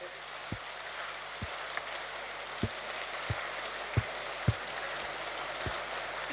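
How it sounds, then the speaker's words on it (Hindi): Sharp single hand claps ring out one at a time at a slow, fairly even pace, about seven in all, over a constant hiss of room noise during a panel session gathering. "ताली बजाएं"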